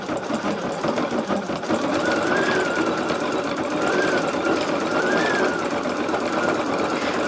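An embroidery sewing machine stitches an in-the-hoop project, giving a steady, close, continuous mechanical whir with a rapid needle rhythm that runs unbroken throughout.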